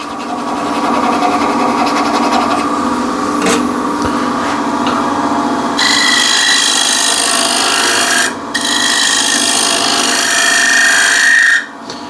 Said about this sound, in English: so I can hone it. Remove the old burr on top.